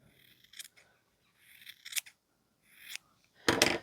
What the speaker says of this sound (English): I'm going to cut as we go.